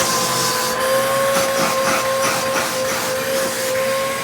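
A Bissell PowerTrak Compact vacuum cleaner runs steadily, close and loud, its motor whine and airy hiss joined by faint rattles, with no talking. The machine is in poor condition.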